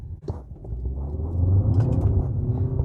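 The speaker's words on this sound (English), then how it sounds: "A little bit of tire spin." A 2020 Hyundai Sonata launches hard, its engine rumble swelling as the tires briefly spin and chirp, loud and close with a rising roar.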